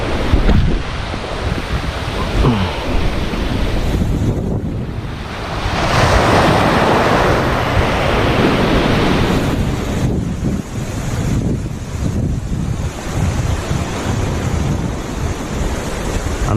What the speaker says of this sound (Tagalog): Uy, lumalaki yung alon.